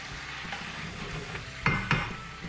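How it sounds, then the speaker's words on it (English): Curry being stirred in a pan with coriander and fenugreek, a soft continuous scraping and sizzle with two louder scrapes near the end, close and without talk. "A bit more fenugreek at the end. Stir that in."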